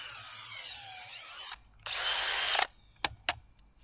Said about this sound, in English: So I've got all my holes drilled here.